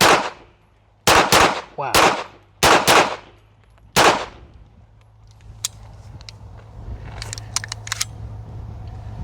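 An H&K P7 pistol fires six sharp, loud shots in an uneven string, each with a short ringing decay. Outdoor range noise and faint metallic clinks follow, with a single brief exclamation.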